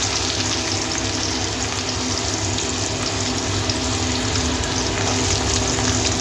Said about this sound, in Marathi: कांदा घालत आहे.